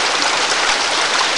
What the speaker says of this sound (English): It is a nice little creek.